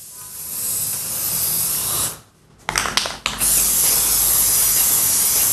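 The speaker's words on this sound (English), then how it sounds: "So in the palette spray, you have to shake it nicely, firm and good." Close, loud hiss of pallet adhesive spray used for plastisol transfer printing, a long continuous burst that stops, a few short sputtering bursts, then steady spraying again.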